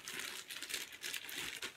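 Plastic packaging around a shirt crinkles and rustles continuously as it is cut open with scissors, close and fairly quiet.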